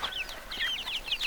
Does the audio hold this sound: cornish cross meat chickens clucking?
yes